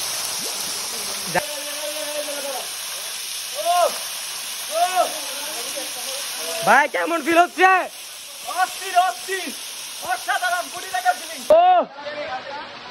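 A steady roar of falling water from Konglak waterfall fills the background while several people talk and call out over it.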